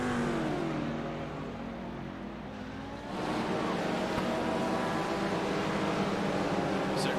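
A Ferrari GT3 race car pulls out of the pits at Suzuka in a racing video game. Its steady engine drone swells and grows louder after a few seconds as it accelerates away.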